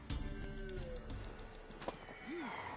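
A horse in the video game Witcher 3 gives a brief neigh near the end, with faint hoof clopping and game ambience throughout.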